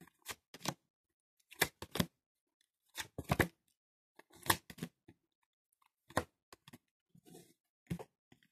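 Tarot cards handled for a reading: a series of short, close, crisp card snaps and shuffling flicks in quick clusters, separated by silent pauses.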